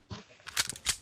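A video game weapon being reloaded: a quick series of sharp metallic clicks and clacks, three or four close, crisp mechanical snaps in just over a second.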